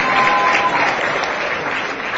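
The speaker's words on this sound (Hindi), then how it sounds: "और फिर से एक बार तालियां बजाइए" Sustained applause from an audience at an award ceremony during a Giants International Day event, loud, dense and steady clapping throughout with no voices rising above it.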